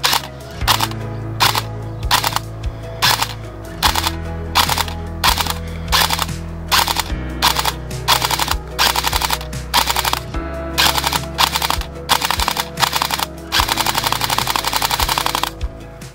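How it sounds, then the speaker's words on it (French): Electric airsoft MP40 replica with blowback recoil firing rapid bursts, a loud mechanical rattling clatter in repeated short strings with a sustained burst near the end, over a low steady hum. "on va faire un petit test de portée avec le nouveau flingue"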